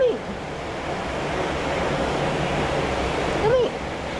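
A steady roar of strong wind and rain fills the clip, with a brief voice-like sound at the start and again near the end.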